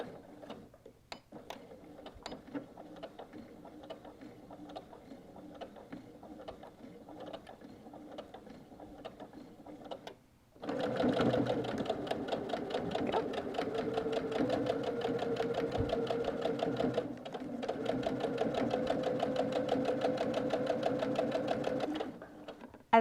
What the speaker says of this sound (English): I'm going to back stitch over the top of the bag again and then sew right through